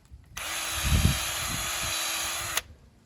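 A power drill whirs steadily for about two seconds, boring into a maple tree trunk, then stops abruptly.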